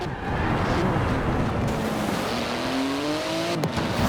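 A 700-horsepower sports car with a 3.8-litre twin-turbo flat-six engine and carbon-fibre body in the Forza Horizon 4 racing game drones loudly and continuously, its pitch rising steadily as it accelerates, with a brief shift-like break near the end.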